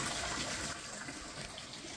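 Spring water pouring steadily from a village fountain, a dense continuous splashing rush heard close up, with a slight drop in level partway through and no voices.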